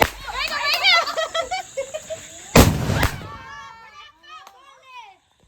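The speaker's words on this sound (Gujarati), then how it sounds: "ચાલો ભાઈ ફટાકડા ફોડી લઈ આવે સુતલી બોમ્બ ફોડો" A sutli bomb firecracker set off in a village for Dev Diwali bursts with one sharp, loud bang midway, amid excited voices and shouting before and after.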